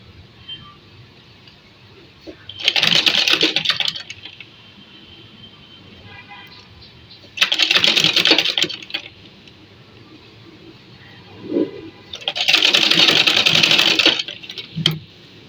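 A sewing machine stitches pleats along the neckline side of a garment with piping, running in three separate bursts of close, steady whirring, the last one longest, with quieter pauses between.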